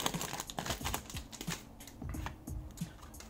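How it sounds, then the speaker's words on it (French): Crinkly plastic foil of a Pokémon card booster pack being worked open in the hands, a series of close, sharp crackles and rustles in irregular bursts with no talking. "on va commencer par ouvrir les boosters du premier coffret"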